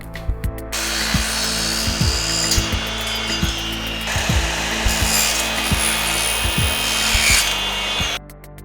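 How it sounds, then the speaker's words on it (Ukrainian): A saw cuts an angled mitre through a 14 mm shadow-gap profile, a continuous loud grinding rasp lasting about seven seconds with regular knocks, starting and stopping abruptly. "ми беремо 14 мм, помічаємо і під кутом робимо запил для того, щоб потім поєднати дані профілі"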